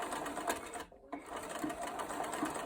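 A sewing machine runs fast, back-stitching across the end of a belt for a school dress, its rapid needle chatter steady and close, briefly stopping for a moment before starting up again.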